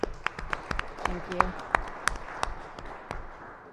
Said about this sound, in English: So if I could have a round of applause for them, that would be great.